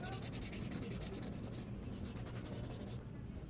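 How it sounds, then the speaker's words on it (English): Sandpaper rubs back and forth over a crack in a wooden footboard leg, making a close, soft, rhythmic scratching that repeats in quick strokes and pauses briefly near the end. "Now we still have to sand down the crack and the holes."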